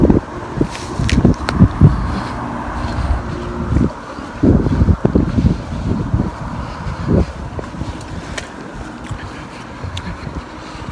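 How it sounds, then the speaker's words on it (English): Gusty afternoon wind outdoors on a walk down a hill, roaring and buffeting against the microphone in uneven surges, loud and close, with a few faint footsteps underneath. "Gusty this afternoon."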